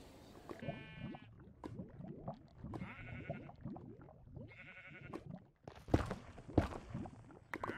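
Sheep bleating in Minecraft, several short wavering bleats in a row mixed with blocky footstep thuds and sharp clicks, close and clear, no talk.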